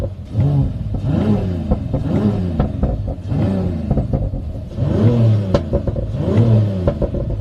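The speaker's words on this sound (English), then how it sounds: "A lot of pops and bangs." A 2027 Mercedes GLE 53 AMG engine in Sport Plus mode revs repeatedly in rising and falling bursts, loud and close, with sharp crackles and pops from the exhaust between revs.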